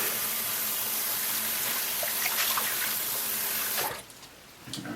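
Tap water running over a shaving soap puck made with stearic acid and coconut oil, a steady close splashing rush that cuts off near the end, leaving a quieter trickle.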